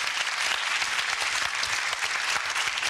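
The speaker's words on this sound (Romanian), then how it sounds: "Dar meritați foarte multe aplauze." Steady, dense audience applause from a studio crowd at a Romanian TV game show, sustained and even throughout with no voices over it.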